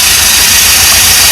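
A Pontiac car engine, started after sitting parked for 30 years, runs rough in a loud, steady, close roar with a dense broadband rumble and no voices.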